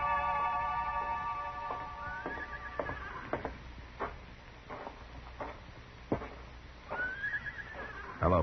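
Horses neighing outside a corral and stables in the Old West, two drawn-out whinnies with scattered hoof clops and knocks between them, moderately close, with no talking.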